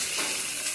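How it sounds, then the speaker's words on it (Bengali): Potatoes added to hot oil with whole spices tempering, giving a steady, close broadband sizzle that holds evenly through a brief moment, with no voices. "ফোড়নে দিয়ে এবার দিয়ে দেবো আলু।"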